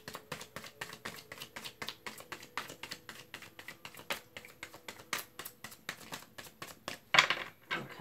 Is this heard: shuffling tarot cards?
yes